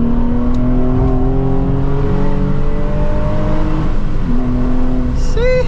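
Nissan 350Z pulling hard under full acceleration, a loud, close engine note rising steadily in pitch through the rev range, with a brief dip near the end like a gear change before climbing again.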